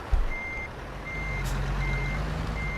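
In American Truck Simulator, a truck backing a trailer into a parking spot sounds evenly spaced electronic reversing beeps over a steady low engine idle, close and clear with no talk.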